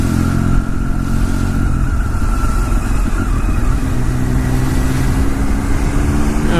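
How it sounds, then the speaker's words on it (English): Triumph Street Triple R motorcycle riding through Tokyo road traffic: a loud, steady engine drone with rumbling wind and road noise, close and continuous throughout with no pauses. "Jeez, fucking traffic,"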